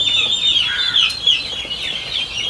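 A batch of young chicks on a poultry farm gives continuous high, thin peeping and chirping calls that overlap each other at close range, with soft rustling beneath and no talk.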